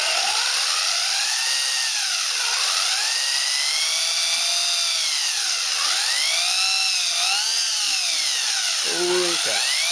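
A Turnigy 4WD 1/16 Monster Beatle RC truck speeds about, its electric motor whining loud and close, pitch swooping up and down repeatedly as it accelerates and slows, with a brief lower rumble near the end.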